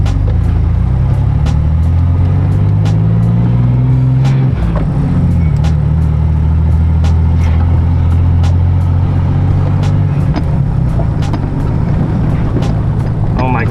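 A truck engine, just repaired and on its first drive in two months, runs with a loud, steady low rumble that shifts pitch as it revs, with scattered knocks and clatter on top.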